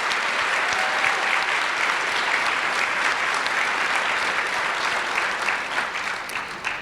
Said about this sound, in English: If we could give one last round of applause to all of those who spoke, and to Aretha, thank you.